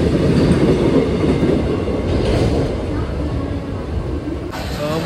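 A train rolls through Badlapur station, a loud, close, continuous low rumble of wheels and carriages holding steady for about five seconds, with no clear talk over it.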